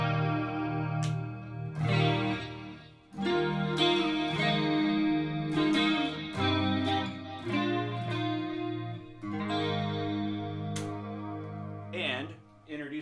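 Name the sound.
1998 Ernie Ball Music Man Axis guitar, re-fretted, played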